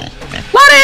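A demon pig in the horror game The Butchery lets out a sudden, loud, brief squeal. It cuts in right after a moment of voices and game noise.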